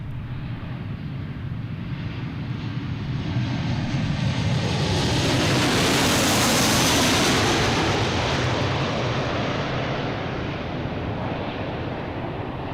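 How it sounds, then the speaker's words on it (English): A Southwest Airlines Boeing 737-800 arriving at Boston Logan from Kansas City, its jet roar swelling loud from a steady rumble to a broad peak midway, then easing off slightly while staying strong. "Southwest coming in from Kansas City. 737-800, flight"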